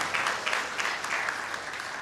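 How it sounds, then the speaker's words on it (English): Audience applause at a church gathering welcoming guests, a moderate, somewhat distant wash of clapping with a few sharper individual claps, steady and fairly faint throughout. "Let's give them a round of applause."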